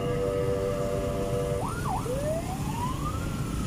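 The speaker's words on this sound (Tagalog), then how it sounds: "Ayan po yung ambulansya." An ambulance siren wails nearby over EDSA traffic noise in Manila, its tone dipping and then rising in a long sweep.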